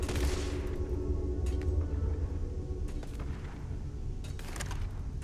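Gunfire in the Starfield video game: bursts of shots cracking out at intervals over a steady rumbling background, sounding somewhat distant.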